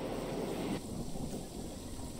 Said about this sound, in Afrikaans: Hier die bliksem se storm